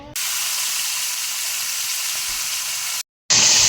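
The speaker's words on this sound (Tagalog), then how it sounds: "ma-prito ko ng isda" Steady, loud broadband sizzling of fish frying in hot oil, continuous hiss with a brief silent gap near the end before it resumes.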